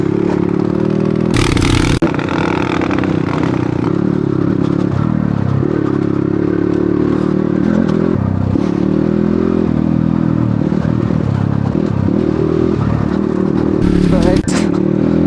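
A motorcycle labors along a muddy mountain trail near the village of Gurja, its engine droning steadily with revving surges, rattling and scraping knocks throughout.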